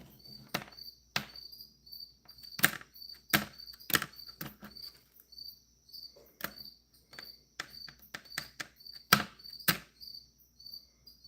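A cricket chirps steadily indoors, a thin high trill running through the whole stretch, broken by loud, sharp clicks and knocks at irregular intervals.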